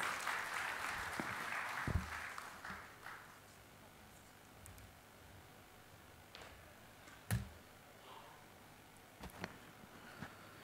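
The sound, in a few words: huge round of applause for speaker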